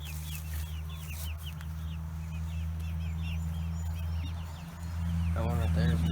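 A flock of young, growing chickens in a coop gives high, scattered peeping chirps and a short burst of clucking near the end, all over a steady low mechanical hum.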